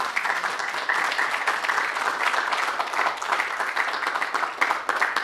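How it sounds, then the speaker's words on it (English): Audience applause at a speech on U.S.-India relations, a sustained, dense roar of many hands clapping at an even, fairly loud level throughout. "Please give him a round of applause."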